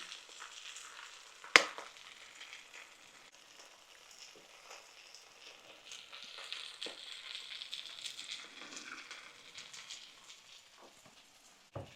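An egg frying in a pan beside sausages, a soft steady sizzle and crackle with one sharp clatter early on and light scraping later, heard alone without talk.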